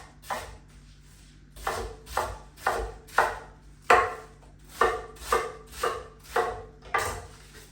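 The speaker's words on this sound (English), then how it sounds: "I'm just going to chop that into nice chunks" A knife chops a vegetable into chunks on a board for peri peri kimchi. About ten close, crisp chops come in a steady rhythm, with no talking.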